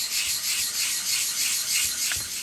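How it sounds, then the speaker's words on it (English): Bonsai tool blades are rubbed flat on a sharpening stone, a continuous gritty scraping in smooth back-and-forth strokes, close and even, with no voices. "give it a rub. Keeping the pressure flat on your blades."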